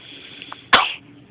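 A baby sneezes once, a short sharp burst that stands out loud and close against a quiet room, preceded by a faint small vocal sound.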